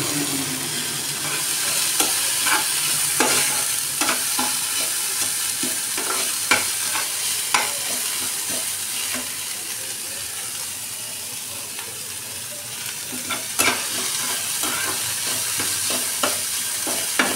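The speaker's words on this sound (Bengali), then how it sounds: "এটাকে ভালো করে এবারে একটু নেড়ে নেব।" A spoon stirs a pizza topping mixture in a hot pan, the scraping strokes coming irregularly over a continuous sizzle and hiss of frying, close and steady, with no voices.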